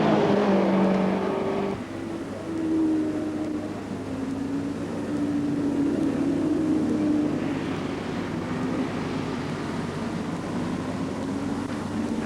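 Racing motorcycles, among them a Team Matic Honda, drone past at the 1983 Castrol 6 Hour, their engines a long sustained whine that rises and falls in pitch against a loud, constant roar.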